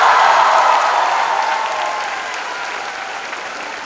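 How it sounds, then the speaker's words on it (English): A big crowd at a promotional event applauds loudly and steadily, the clapping a dense wash that slowly fades over a few seconds with no talk over it. "A huge round of applause for all those guys on the screen."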